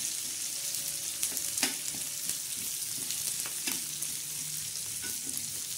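Onion frying in a pan for a stuffed black-masala eggplant dish, a steady close sizzle with repeated scraping stirs of a spoon against the pan, no talk.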